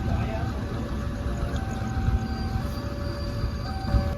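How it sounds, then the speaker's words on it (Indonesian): A Garut commuter train stands stopped at Rende station at night. A steady low engine and carriage hum runs underneath, with faint squeals and clunks, all at an even loudness throughout. "Kereta Komuter Lain Garut berhenti di stasiun Rende hanya 2 menit ya teman-teman."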